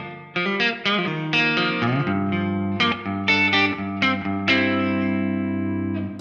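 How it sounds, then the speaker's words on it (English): Electric guitar chords and notes played through a Seymour Duncan Dark Sun pedal with a hall reverb, each strum ringing out into a long, washy tail. "have a listen to the reverb,"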